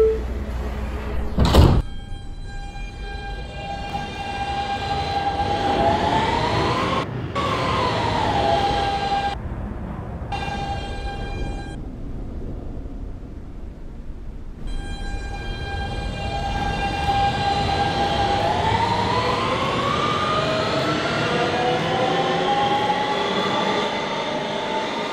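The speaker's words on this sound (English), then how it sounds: "Stand clear of the closing doors, please." In the Roblox video game, a simulated Kawasaki R160B subway train's doors chime and close with a thud, then the train departs with a rising electric motor whine and steady rumble that climbs in pitch, close and prominent.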